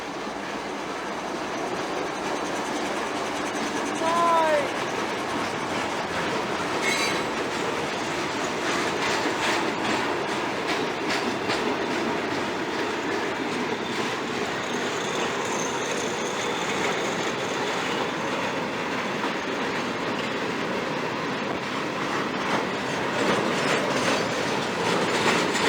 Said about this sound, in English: for our at-home audience, those were a pair of ES44AHs